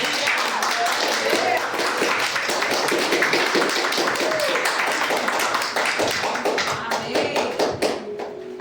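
A church congregation applauding to welcome a bishop, loud dense clapping close at hand with voices and cheers mixed in, thinning slightly toward the end.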